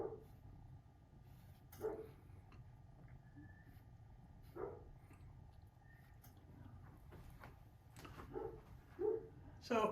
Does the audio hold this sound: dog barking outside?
yes